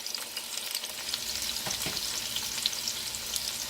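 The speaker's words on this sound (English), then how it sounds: "the vegetable oil is about heat now. There we go. Yep, can you hear that?" Onions stir-frying in hot vegetable oil, a steady bright crackling sizzle with a faint stir partway through, close and continuous with no talking.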